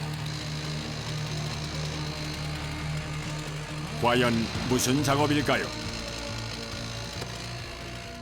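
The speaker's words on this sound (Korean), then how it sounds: "천공기 대신 전기톱으로 얼음판을 잘라내는 현장이 목격됐는데요" An electric chainsaw cuts into a thick ice sheet on a frozen river at a winter fishing festival, a short rising whine of about a second or two heard at a distance over steady background noise.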